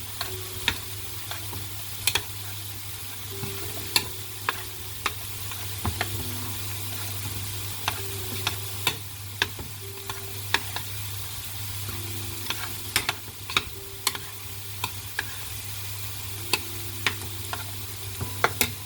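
Food cooking in a pan gets stirred again: a constant low sizzle with scattered light scrapes and clicks of the utensil, close and steady, no voices.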